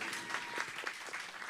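Audience clapping at a stage event in Odisha, a quiet, steady patter of many hands heard from a distance.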